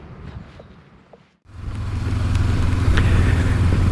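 A 2023 Honda CB500X motorcycle pulls away after a brief pause, its engine settling into a steady, loud drone that grows fuller as the ride gets underway, with road and wind noise building around it.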